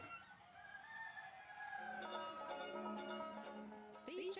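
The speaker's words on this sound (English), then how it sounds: "These chickens may look normal, but they've been bred to grow as fat and as fast as possible." Broiler chickens in an indoor chicken shed cluck and crow, overlapping calls rising over a soft background hum, moderately close and continuous throughout.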